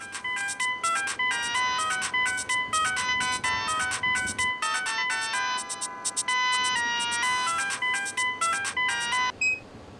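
A mobile phone plays a bright, melodic electronic ringtone, with quick repeating note patterns looping steadily for about nine seconds before cutting off. It sounds clear and close, with no voices over it.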